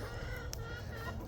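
Chickens cluck softly during a bitter cold, windy spell at a small farm, a few faint, brief clucks over a low background rumble.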